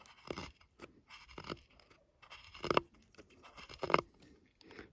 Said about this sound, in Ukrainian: Навіть тверді породи досить таки непогано стругає